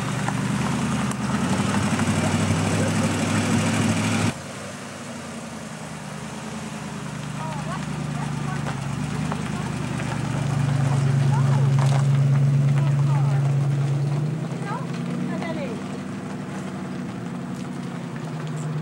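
A Ford Mustang's engine runs with a steady low drone heard from inside the car, swelling briefly midway before settling again, while voices murmur faintly under it.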